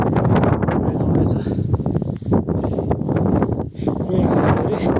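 Strong mountain wind roars steadily into the microphone on a snowy trail toward Tilicho Lake in Nepal, a loud, continuous buffeting with brief dips, voices faintly beneath it.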